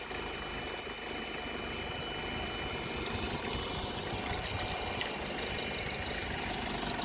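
A 12V water pump run off a 40 Ah car battery draws groundwater from a well, giving a steady, continuous motor hum and hiss that holds level throughout.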